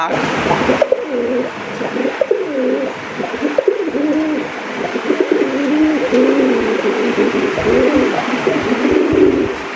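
Raj Golla pigeons coo in repeated low, rolling phrases, close and steady, several birds overlapping throughout with faint background murmur.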